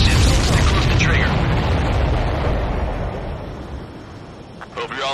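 A heavy, rumbling missile blast tears through supply ships during an Ace Combat 7 flight mission, a loud low boom that swells and slowly fades, with radio voices talking over it.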